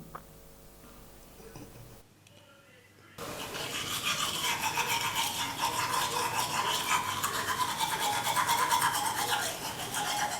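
A plastic toothbrush scrubs teeth up close: after a quiet, faintly humming opening and a brief hush, steady rapid brushing strokes start and continue loudly to the end.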